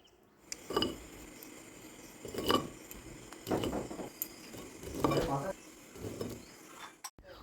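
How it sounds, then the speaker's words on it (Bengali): Fried snacks lifted out of hot oil in a home kitchen, a spoon or slotted ladle clinking and scraping against the pan in five distinct bursts at a steady pace, close and moderately loud over a low background. "এখন তেল থেকে তুলে নেব।"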